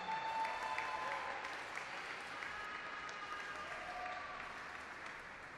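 Audience applause at a solemn legislative session for Black Latin American and Caribbean Women's Day, greeting a federal deputy; dense, steady clapping from a crowd that carries on for several seconds and slowly thins toward the end.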